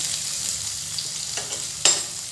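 Chopped onion frying in hot mustard oil, giving a steady, close sizzle with a sharp burst of crackling near the end as more onion hits the pan.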